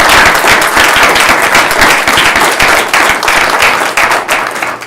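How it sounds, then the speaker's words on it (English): Sustained round of applause from people at a county board of commissioners meeting, dense steady clapping filling the room for about five seconds and tapering slightly near the end. "Join me in a round of applause, please."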